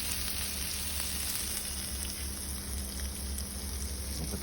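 Quesadillas cooking in a solar kitchen cooker, giving a quiet, steady sizzle with small crackles and a faint high whine throughout, no talking.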